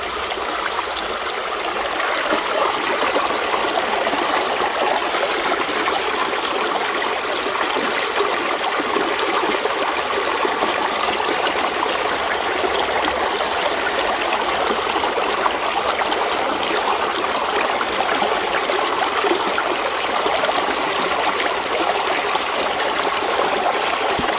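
Water rushing steadily through a gold prospecting sluice over coarse sand, a continuous broadband splashing flow, close and unbroken throughout.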